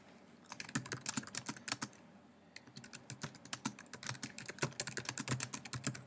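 Computer keyboard typing as a short group description is entered, a quick irregular patter of key clicks with a brief pause midway, close and fairly soft.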